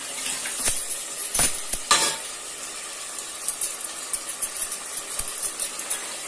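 Chicken and mint leaves sauté for biryani in a pan, giving a soft continuous sizzle broken by a few sharp scraping and clinking stirs early on, then quieter crackling.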